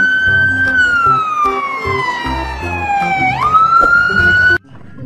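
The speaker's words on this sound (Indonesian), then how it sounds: "kalau yang ini mobil pemadam kebakaran" A toy fire truck siren wails loudly and close, its electronic tone sweeping slowly down and then back up before cutting off abruptly.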